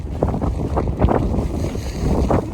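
Strong gusts buffet the microphone on the Isle of Skye, a steady roar of wind noise with swelling bursts throughout and no one talking.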